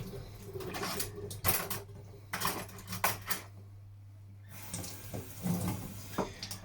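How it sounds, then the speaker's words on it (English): Running tap water splashes over a yellow dragonfruit being washed in a sink, in uneven bursts with a pause midway, fairly quiet against a steady low hum. "First of all, we wash the pitaya as usual."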